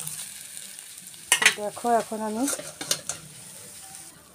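Fish frying in oil in a pan gives a steady low sizzle with a few light clinks, while someone speaks briefly over it near the middle.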